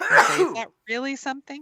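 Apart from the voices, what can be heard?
sneeze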